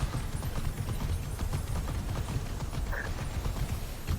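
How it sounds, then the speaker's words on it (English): In Immortals Fenyx Rising, a mechanical horse gallops with a steady, rapid clip-clop of hooves against a dense, loud game soundscape. "Mechanical horse."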